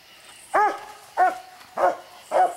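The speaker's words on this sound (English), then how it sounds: "We got two dogs out here." Coonhounds barking at a raccoon treed up a tree on a night hunt near the Rock River, four loud, evenly spaced barks close by with no talking.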